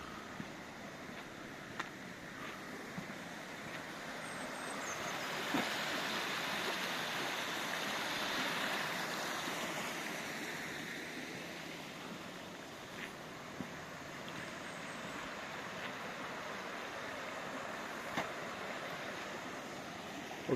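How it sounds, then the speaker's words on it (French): A river flowing through a valley along a hiking circuit, a soft continuous rushing wash heard from a distance, steady and quiet with a gentle swell midway and no voices. "On entend la rivière"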